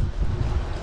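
Strong wind buffets the microphone on a fishing pier at Magnolia, a loud, steady low roar with gusty fluctuations and no voices.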